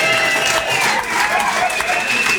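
Live podcast audience at a rugby show cheering and applauding, a dense, steady wash of clapping and crowd noise throughout, loud and close.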